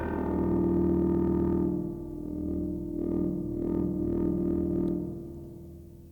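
A Buchla Easel synthesizer patch rings out from a single middle C key press, sustaining loud tonal harmonics that swell and fade, with a series of pulsing bright accents midway before the tone decays.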